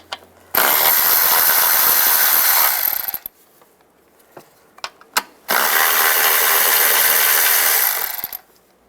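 Ratchet with a 10mm socket removing nuts on a 2007-2018 Jeep Wrangler engine, heard as two loud, sustained runs of clicking, each lasting a few seconds, with a quiet pause and a couple of sharp clanks between them.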